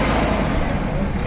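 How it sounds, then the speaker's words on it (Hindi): Revving diesel engine of a Mahindra Novo 755 75 hp CRDI turbo tractor, a loud, steady close-up roar across the whole short moment. "अब आपको चेक करवाते हैं इसकी आवाज़ चेक करिए एक बार ट्रैक्टर की"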